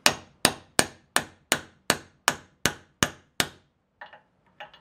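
Pushing a king pin bushing out on a Club Car Precedent golf cart brings nine evenly spaced sharp hammer strikes, loud and close, followed by a few fainter, lighter taps.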